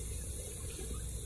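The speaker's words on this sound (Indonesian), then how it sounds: "Coba dengarkan suara gemericik air ini" Water gurgles and splashes steadily at Toya Aikmel waterfall in Lombok, a continuous broadband rush that stays even and fairly close throughout.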